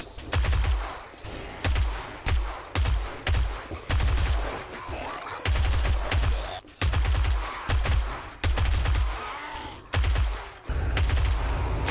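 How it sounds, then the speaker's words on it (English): A silenced SMG firing in the zombie survival game 7 Days to Die, heard as repeated close bursts of rapid, muffled thumping shots with short pauses between strings, steady and loud throughout. "This SMG with a silencer doesn't even wake half of them up."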